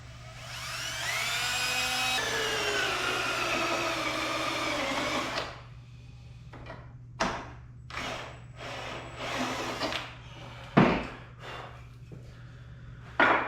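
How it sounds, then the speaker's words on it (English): A power drill whines steadily for several seconds as it bores a hole, then stops, followed by scattered knocks and clatter of handling tools. "Alright, drill some holes."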